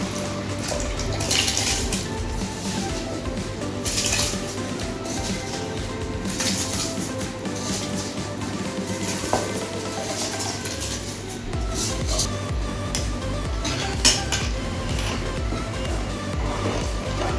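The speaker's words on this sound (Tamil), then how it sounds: "இப்போ நம்ம ஊற வச்சிருக்கோம் பார்த்தீங்களா சீரக சம்பா அரிசி, அதை நம்ம சேர்த்துடலாம்" Soaked seeraga samba rice is tipped with a little of its water into a pot of mutton biryani, giving a steady watery splashing and sloshing with scattered clinks, close and continuous.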